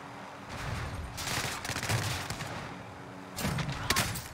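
Enemies fire at the player in a first-person shooter, with rapid automatic volleys in two main bursts, loud and close over a low background rumble.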